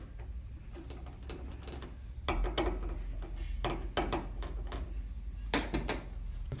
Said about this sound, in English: remove the old wire from the bow by loosening screws 5 and 6 on the left and right side of the unit